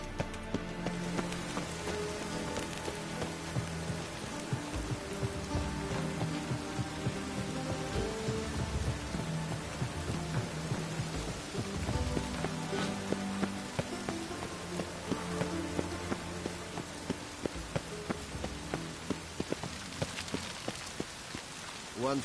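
Steady rain in the video game The Witcher 3: Wild Hunt patters on a surface with scattered heavier drips, continuing throughout with a low rumble underneath.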